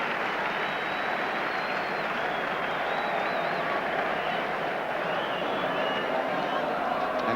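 Stadium crowd noise and applause during a 1978/79 First Division match, Arsenal against Manchester United, as a substitute comes on; dense, unbroken crowd roar with scattered clapping, steady in level, with faint voices mixed in.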